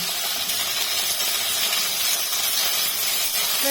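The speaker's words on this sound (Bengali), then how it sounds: "দেখো পেঁয়াজটা হালকা হালকা ভাজা হয়ে যাচ্ছে।" Sliced onion with Malabar spinach seeds frying in a pan, a steady close hiss of oil that holds even and loud throughout without a break.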